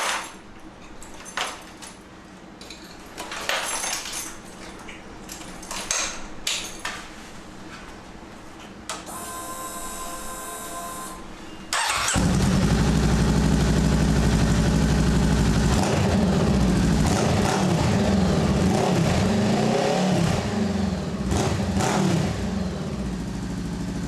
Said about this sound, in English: I know y'all hear that custom exhaust, man. Got the Leo Vince muffler on there, and she pops.